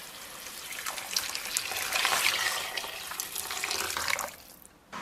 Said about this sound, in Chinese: 然后我们给它加入开水